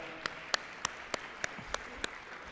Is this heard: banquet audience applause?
yes